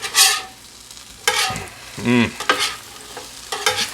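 Chopped meat and sauce with tomato paste being worked and scraped with spatulas on a hot griddle for a sloppy cheesesteak: steady sizzle broken by several sharp metallic scrapes and clanks, close and fairly loud.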